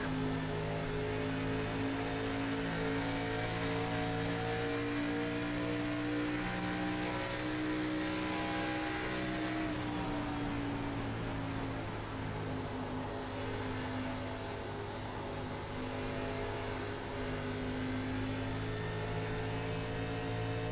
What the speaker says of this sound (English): you can hear how much he had to play at the throttle to make that pass work